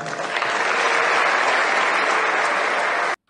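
Audience at a French political meeting applauding steadily, a dense, loud wash of clapping that holds for about three seconds and then cuts off abruptly.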